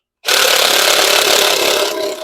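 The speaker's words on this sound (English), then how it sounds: "we're going to go ahead and compress the springs" Valve springs on a GM Gen V LT4 engine head being squeezed by a spring compressor tightened down to the head, giving a loud, steady grinding rasp that starts abruptly and holds for about two seconds with no talk.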